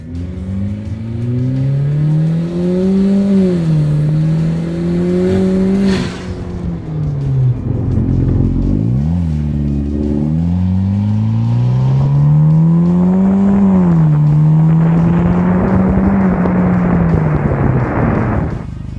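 A loud front-wheel-drive Kia engine revs and accelerates close up, its note rising and falling through several pulls with a brief dip in between, then climbing strongly again.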